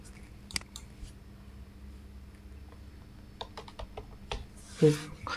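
Scattered clicks of typing on a computer keyboard, a few isolated keystrokes then a quick cluster near the end, faint and close in a quiet room with light background hum.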